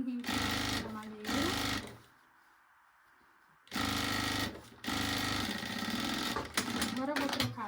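A sewing machine stitches a close seam on a baby backpack in loud, close bursts, with a quiet gap in the middle before running again in steady stretches.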